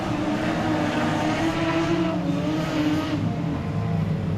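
Steady, loud roar of production sedan race car engines on a speedway, droning continuously, with no pauses or voices.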